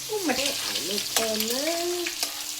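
Spiced masala with chilli and turmeric fries for egg biryani, a steady broadband sizzle with stirring scrapes, close and loud, while a voice talks over it in tonal, sliding phrases.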